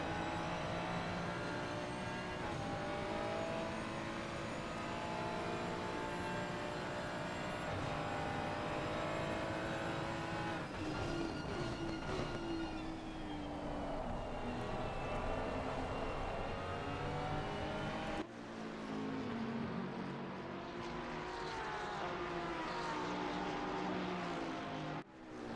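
GT3 race cars, including an Audi R8 Evo 2 and a Bentley, racing at Monza in a video game, with engines roaring continuously, several cars revving and shifting close together, and loud throughout with no talk.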